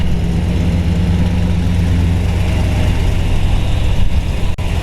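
A 1955 Chevrolet 210 Delray resto-mod with a 350 V8 and 700R4 transmission idles steadily while being backed up, a low, even rumble that holds throughout with no talking.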